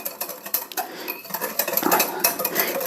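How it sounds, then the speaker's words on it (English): A Cajun butter steak marinade is whisked in a bowl, quick rhythmic metallic clinks and scrapes of the whisk against the bowl, close and busy throughout. "we want to give that a good whisk"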